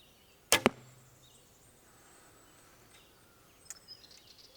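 Arrow released from a traditional bow during tuning, tipped with a 200 grain point: a sharp double snap of string and release, then quiet, with a faint distant tick later.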